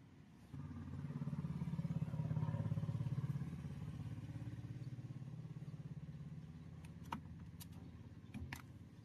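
A washing machine motor, repaired after a broken wire stopped it turning, hums steadily and loudly on a test run, with a few sharp clicks near the end.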